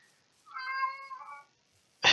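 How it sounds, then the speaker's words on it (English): A house cat meows to be let out of a closed room: one clear, drawn-out meow heard alone and fairly close in a quiet space, followed by a brief noisy rustle. "it's my cat meowing to get out of the room."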